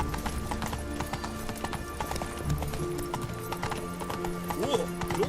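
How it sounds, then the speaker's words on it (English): Hoofbeats of a horse running in The Witcher 3 video game, a steady clip-clop in the foreground with a brief whinny, set among game music and ambient sounds. "Run, Roach"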